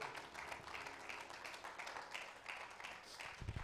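A church congregation applauds during a service, with sustained, dense clapping from many hands that stays at an even level for several seconds and sounds moderately close.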